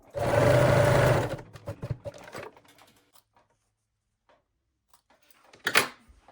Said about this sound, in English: I gently stretch the elastic while I'm sewing.